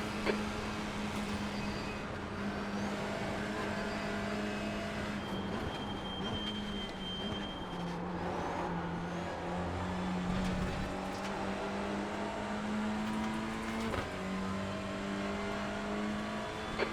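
A TCR race car engine laps Mount Panorama in a sim racing game, a sustained droning engine note with shifting pitch and rev changes, heard alone for the whole stretch.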